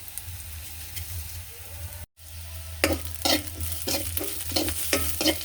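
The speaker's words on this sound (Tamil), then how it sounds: "இன்னொரு சட்டியில் எண்ணெய் ஊற்றி வெங்காயம், வெள்ளைப்பூடு, பெருஞ்சீரகம், கடுகு எல்லாம் போட்டு தாளிக்க போகிறோம்" Onions, garlic, fennel seeds and mustard seeds sizzle in hot oil in a pan with a steady frying hiss, broken by a brief drop-out and then repeated scraping stirs.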